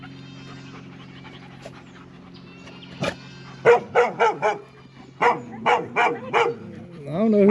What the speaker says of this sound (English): don't know who you barking at.